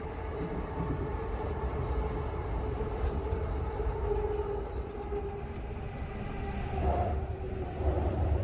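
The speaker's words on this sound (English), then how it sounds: "The Chuo line and the Ginza subway line." Trains on Tokyo's Chuo line and Ginza subway line rumble steadily in a station area, a continuous low rolling roar with faint squeals near the end, with no one talking over it.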